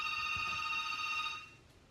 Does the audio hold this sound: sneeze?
no